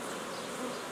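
Dense, steady buzzing of many honeybees at an opened, overwintered nucleus hive during frame removal, close and continuous with no voices.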